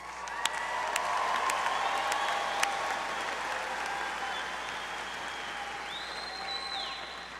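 A graduation ceremony audience at Texas State University claps steadily for several seconds, a broad even wave of applause with a few sharp individual claps and faint cheers.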